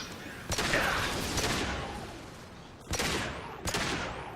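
Gunfire in the video game Mass Effect 2, a few sharp loud shots and short bursts over a continuous noisy background of game action.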